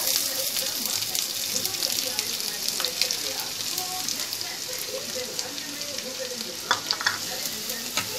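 Chopped onions fry in a spoonful of hot oil for a chicken samosa filling, giving a continuous close crackling sizzle with occasional stirring scrapes throughout.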